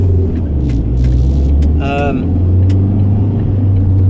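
Heavy road traffic on a congested network, a steady low rumble of many car engines passing close by, with a brief higher-pitched engine whine partway through and no talking.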